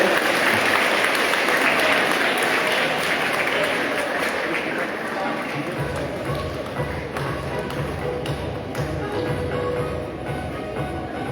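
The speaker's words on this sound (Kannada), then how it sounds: "ಚಪ್ಪಾಳೆ ಚಪ್ಪಾಳೆ" Audience applause at an inauguration ceremony, steady clapping from a crowd that runs for about eleven seconds at an even level, growing denser and fuller partway through.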